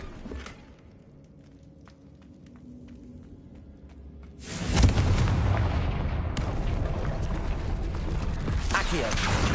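Confringo spell blast in the video game Hogwarts Legacy, erupting as a loud, broad roaring burst that sustains with rumbling crackle, after a quieter stretch of scattered clicks and soft ambience.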